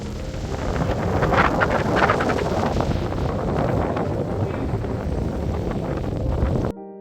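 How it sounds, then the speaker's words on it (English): Wind at a seaside campsite at Bab Al Nojoum on Hudayriyat Island, Abu Dhabi, blows loud and steady, buffeting the microphone with a continuous rough roar before cutting off abruptly near the end. "it's quite windy here"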